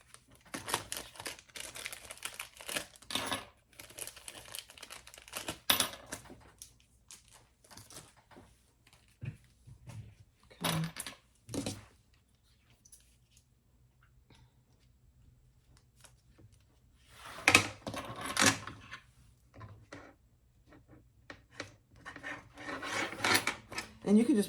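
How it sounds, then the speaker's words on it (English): Metal swivel clasps get handled and clipped onto a sewn bag in quiet, intermittent bursts of close rustling, rubbing and small clicks separated by near-silent pauses. "you want to put your swivel clasps on."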